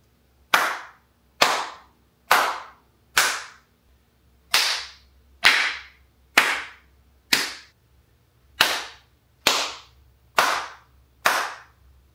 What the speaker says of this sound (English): now let's compare, starting with the audible clap test